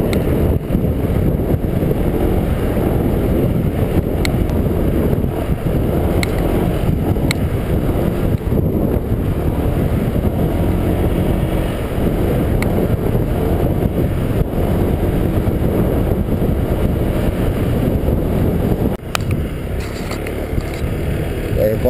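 A Honda SH150i scooter is ridden with the rider standing over a bumpy road, giving a steady, loud engine and road rumble with heavy wind buffeting across the whole stretch.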